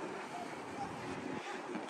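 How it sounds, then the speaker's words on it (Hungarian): Wind rushing steadily across the rear main camera microphone of an iPhone 13 Pro Max on a large hill, a constant broadband roar with slight gusting and no voices. "Fúj a szél"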